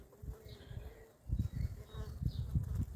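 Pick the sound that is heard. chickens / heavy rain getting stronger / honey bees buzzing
honey bees buzzing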